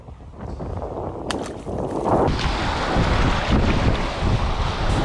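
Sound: wind blowing on a dock

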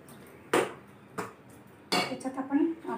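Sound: stirring milk in a pot for dudhi halwa

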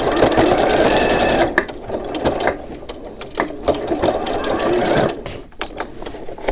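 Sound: sewing machine stitching a mink-fabric handbag

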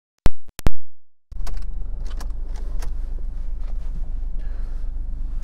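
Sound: 2018 Ford Focus SE being started up

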